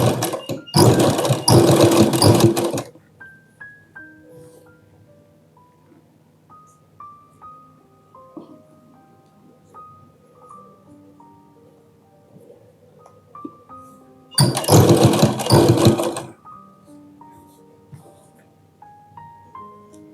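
Two short bursts of sewing machine stitching along blouse piping, each about two seconds, separated by a quiet stretch of faint tonal background sound.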